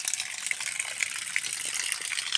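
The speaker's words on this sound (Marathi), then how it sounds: "हे पहा ही धार कशी पडायची एकदम फिल्टरचं शुद्ध पाणी मित्रांनो." A stream of filtered drinking water gushes down from a spout on farmland, making a steady bright splashing hiss that stays even throughout, with no talking.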